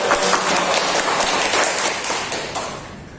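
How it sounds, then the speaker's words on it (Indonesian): Applause from a classroom of students during a micro-teaching lesson, a dense, even patter of many hands clapping close by for a few seconds before tapering off. "Beri tepuk tangan untuk Mbak Anissa."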